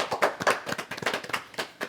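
A small group claps in a round of applause on a podcast, the sharp hand claps fairly close, quick and uneven, with no talk over them.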